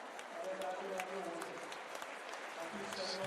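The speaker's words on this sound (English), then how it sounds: "Getting applause." Arena crowd applauding at an indoor World Cup show jumping qualifier in Gothenburg, a steady wash of clapping that continues under the commentator's voice throughout.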